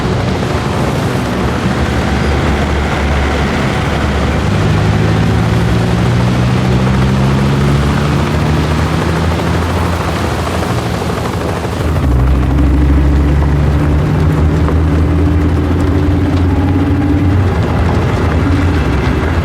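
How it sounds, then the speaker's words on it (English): An inbound helicopter in the video game 007 First Light drones loud and steady for nearly twenty seconds, its engine and rotor tones sliding in pitch and swelling midway as it draws near, with no speech. "Bavma's heli is inbound"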